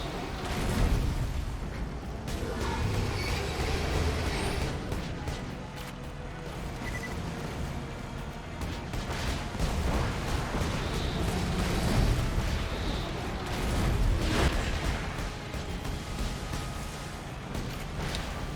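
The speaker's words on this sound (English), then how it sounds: "Now just keep an eye out for those big missiles." Booming missile explosions from the Badassasaurus boss in Borderlands, with repeated heavy blasts and rumbling bursts under dense, continuous battle noise.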